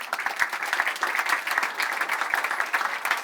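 An audience at a tech town hall event claps together in a brief, even burst. The applause is moderately loud and continuous, with no voices over it.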